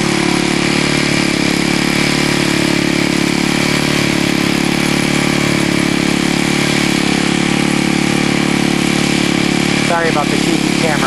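A Snow Bird snowblower runs through hard ice-packed snow, a loud, steady close engine drone with a constant rumble and a brief rattling burst near the end.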